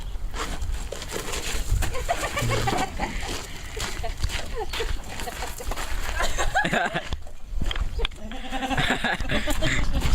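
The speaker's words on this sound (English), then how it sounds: "That is a goat." A goat bleats a few times amid ongoing family talk outdoors, its short wavering cries mixed in with voices and rustling while the animal goes after leaves.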